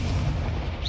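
A fiery Confringo spell explosion in the Hogwarts Legacy video game, a brief, loud, dense boom with a rumbling blast that fills the whole short moment.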